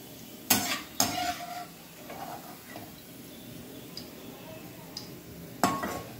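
Onions frying golden brown in a pan while a utensil stirs and scrapes, with sharp metallic clinks against the pan over a continuous low sizzle, close and fairly loud, no talking.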